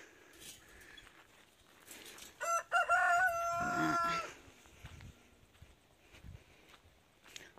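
A rooster crows loudly and clearly in the middle, a drawn-out call rising over a farmyard backdrop, while backyard chickens cluck and scratch faintly before and after it.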